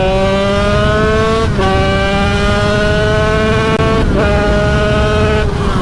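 A 50cc motorcycle engine revs high and accelerates steadily, its whine climbing in pitch through each gear with brief dips at the shifts, loud and close for the whole stretch.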